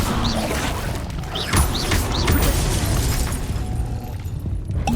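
An Incendio fire spell bursting in the video game Hogwarts Legacy: a loud, dense, roaring blast with several rising whooshes on top, sustained throughout without letup.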